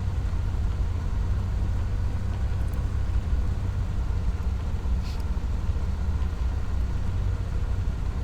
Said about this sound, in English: I can barely hear the engines in this plane.